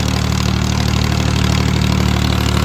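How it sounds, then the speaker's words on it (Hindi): A 2006 Powertrac 445 tractor with a worn engine, failing compressor and worn diesel pump runs steadily while pulling an 18-disc harrow, a loud, close, continuous diesel drone with a throbbing low pulse. "लेकिन ट्रैक्टर फिर भी बढ़िया चल रहा है अपना"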